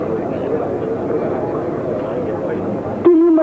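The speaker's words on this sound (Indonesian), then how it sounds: "Inilah pesawat Harvard melintas di hadapan para hadirin." A Harvard propeller aircraft passes before spectators at an Indonesian Air Force anniversary air show, a steady droning engine roar lasting several seconds, then abruptly cut off by a louder tonal sound at the end.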